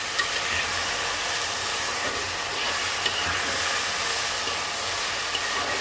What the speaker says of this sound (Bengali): আলুটাকে কিন্তু খুব সুন্দর করে ভাজা ভাজা করতে হবে।